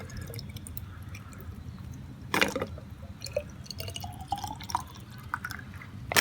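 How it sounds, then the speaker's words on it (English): Water filled into a container holding onion and banana peels for a homemade plant fertilizer: quiet close dripping and gurgling liquid with a brief louder splash midway, over low background noise, no speech. "We'll fill it up with some more water because this can also be reused another couple of times."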